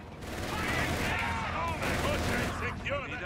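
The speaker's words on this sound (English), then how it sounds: "Infantry firing on us!" Infantry gunfire in Company of Heroes 3, a World War II strategy game, sounding as dense, continuous rifle and machine-gun fire with sharp crackling bursts, heard under overlapping shouted voice lines.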